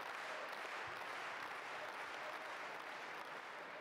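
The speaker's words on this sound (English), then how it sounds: "While there are no names attached to those claps, it's clear that it's for Dima." Audience applause in a table tennis hall at the German Open 2017 men's singles match, a steady, fairly faint patter of claps lasting a few seconds.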